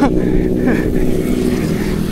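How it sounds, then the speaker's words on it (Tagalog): Engines droning and revving nearby as motorbikes go by, a steady loud motor hum with a voice speaking briefly over it. "Ayan na yung mga mga motor."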